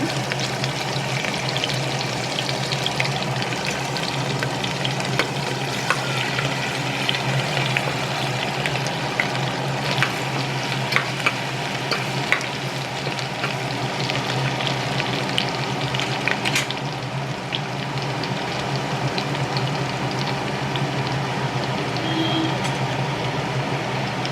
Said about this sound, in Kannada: ಈಗ ಶುಂಠಿ ಬೆಳ್ಳುಳ್ಳಿ ಹಚ್ಚಿ ಹೆಚ್ಕೊಂಡಿರೋದು ಅದನ್ನು ಹಾಕ್ತಿರೋದು ಸ್ವಲ್ಪ ರೋಸ್ಟ್ ಆಗುತ್ತೆ